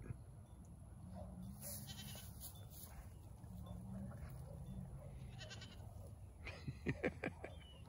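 A goat bleats outdoors, a few wavering cries rising over a steady background hum, with a short burst of sharper bleats near the end. No one speaks.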